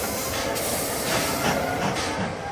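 A train heard from a played video, a steady rumbling roll of rail cars with hissing and faint clickety-clack running throughout, fairly loud and continuous with no voices.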